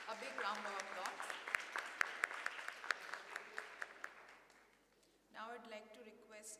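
Applause at a youth entrepreneurship event as a speaker is honoured: a patter of hand claps comes through under and between a voice on a loudspeaker, then fades before the talk resumes.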